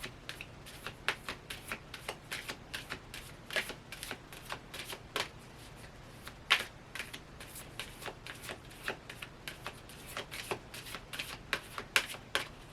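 A Moonology Affirmation card deck is shuffled by hand in a quiet room, a long run of quick riffling bursts and soft slaps close to the ear, uneven in rhythm and without talk.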